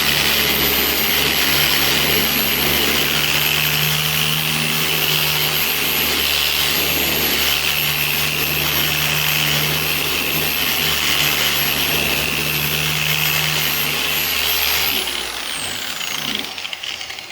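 A Bauer random orbit buffer sands with worn, clogged 180 grit paper, a steady loud close whirring drone that holds for about fifteen seconds before winding down.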